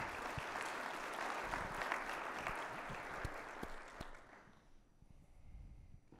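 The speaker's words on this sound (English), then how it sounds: "So let's give them a round of applause as well." An audience at a conference welcome session gives a round of applause, a steady crowd of clapping that is heard from a distance and fades out over the last two seconds.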